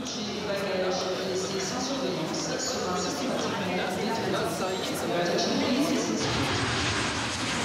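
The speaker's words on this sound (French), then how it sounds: "Avion posé." A steady airplane engine roar as the plane lands fills the whole stretch, loud and continuous, with a faint voice murmuring beneath it.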